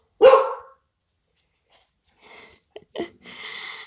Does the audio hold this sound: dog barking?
yes